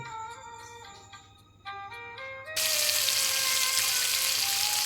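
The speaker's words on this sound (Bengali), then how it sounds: "এই ব্যাটারের মধ্যে ভালোভাবে ডুবিয়ে এই তেলের মধ্যে একে একে দিয়ে দেব" Bottle gourd leaf fritters dipped in batter and dropped one by one into hot oil, setting off a sudden loud, steady sizzle over a few seconds of quiet kitchen noise.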